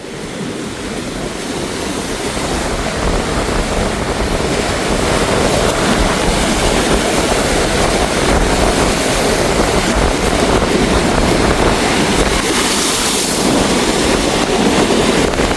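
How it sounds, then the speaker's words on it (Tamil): Rough storm-driven sea waves crash and roar continuously at the coast at Keerimalai in Jaffna, a loud, dense surge of surf with gusting wind noise and no talk. "இந்த கடல் கொந்தளிப்பாக இருக்கிற காட்சியை பார்க்குறீங்க"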